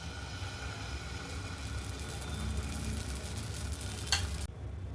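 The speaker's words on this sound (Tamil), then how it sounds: "இப்போ பேட்டரை ஊற்றிக்கலாங்க." Sweet potato pancake batter sizzles in a pan greased with oil or ghee, a steady close-up frying hiss that holds evenly for about four seconds before cutting off abruptly.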